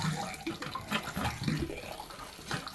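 Water gushing and spitting from RV plumbing lines as compressed air is blown through to winterize them, a steady splashing flow with irregular sputtering bursts where air breaks through.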